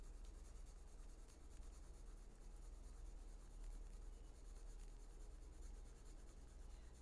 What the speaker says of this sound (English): Putting lighter pressure on the pencil.